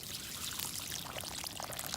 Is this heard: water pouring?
yes